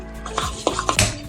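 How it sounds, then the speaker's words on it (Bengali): A metal kadai is set down on a gas stove, several sharp clanks and scrapes in quick succession, close and clear, with no talking. "গ্যাসটাকে ধরিয়ে নিলাম, কড়াইটা বসিয়ে দিলাম।"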